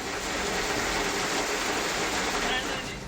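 Heavy rain from a sudden downpour under dark clouds, a steady dense hiss of water pouring down and drumming on surfaces, loud and unbroken throughout.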